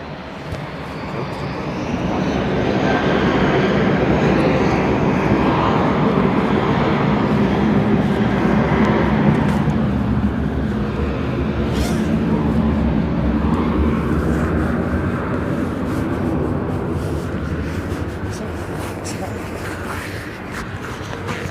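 A Boeing 767 gets ready for takeoff at London Heathrow, its jet engines giving off a broad, sustained roar that swells and holds at a steady distance, with a voice talking over it at times.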